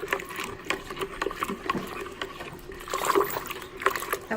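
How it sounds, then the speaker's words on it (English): Cold water pours from a tap into a pitcher for sweet tea, a steady close splashing trickle with a faint mechanical hum beneath, swelling slightly as the pitcher fills. "Then we fill it up with cold water."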